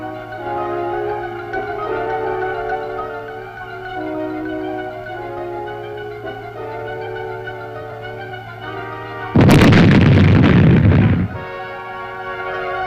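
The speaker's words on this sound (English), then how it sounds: "these mines were destroyed by demolition experts using charges of plastic explosives" A landmine detonated by demolition experts with plastic explosive charges during the Vietnam War erupts as one loud, dense blast roughly two seconds long, rising suddenly over a steady droning background of engine hum and ambient noise.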